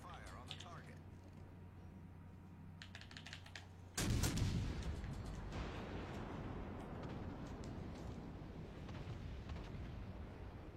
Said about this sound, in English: All stations, concentrate fire on the target.